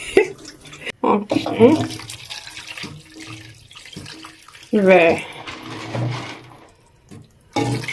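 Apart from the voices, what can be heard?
water running from tap for cooking Nigerian soup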